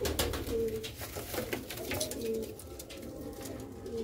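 Sialkoti black-faced pigeon chicks coo softly in repeated short calls over a continuous background murmur, heard fairly close with no clear talking.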